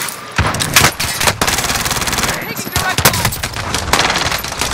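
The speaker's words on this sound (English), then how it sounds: "Taking direct fire." Loud, close video-game gunfire in sharp bursts and volleys, with machine-gun rattles breaking through and brief gaps between them, under faint voices.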